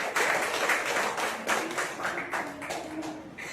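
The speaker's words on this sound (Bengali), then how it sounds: "ওদের জন্য জোরে হাততালি হয়ে যাক" Schoolchildren at a primary school celebration clap for classmates, a dense, steady patter of many small hands filling the room for a few seconds, with faint voices underneath.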